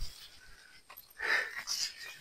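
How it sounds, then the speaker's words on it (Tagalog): Heavy, wheezy panting from a hiker climbing Mount Kalisungan in Laguna, fairly faint, with ragged breaths rising and falling and no clear talk. "Hinihingal na ako, idol."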